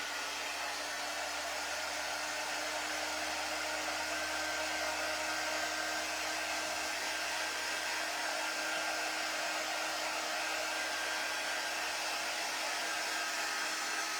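A hair dryer blowing steadily on green paint on a wooden decor piece, a constant close whirring hum with a faint whine, unbroken and without talk.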